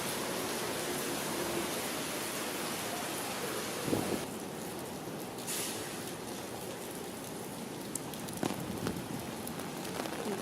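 Heavy rain pours steadily outside Taipei Arena, a dense continuous roar close by with a few brief louder spatters and knocks, no voices.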